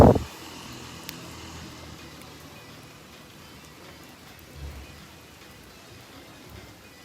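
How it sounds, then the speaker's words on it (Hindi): Monsoon rain falls on a garden with a steady soft hiss, opening with a sharp burst and followed by low, distant thunder rumbles. "बारिश का तीसरा राउंड शुरू हो चुका है।"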